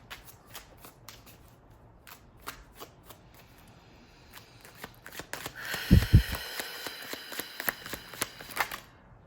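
Deck of cards being shuffled by hand during a card reading, soft scattered taps and flicks building to a loud riffling burst midway, then continued close crisp card flutters.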